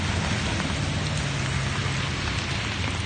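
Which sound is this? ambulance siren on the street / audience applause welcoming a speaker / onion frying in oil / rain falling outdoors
rain falling outdoors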